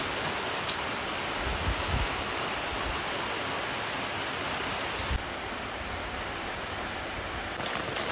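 Steady, dense rain with wind hisses without a break, a constant wash of downpour with a few faint low thumps and no voices.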